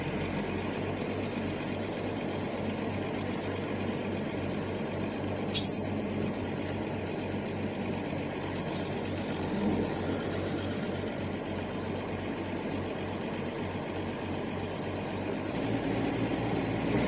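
A cold Allis-Chalmers D17 diesel tractor engine runs at a steady idle with a rhythmic, throbbing knock that keeps going the whole time, plus one brief metallic clank, and no voices.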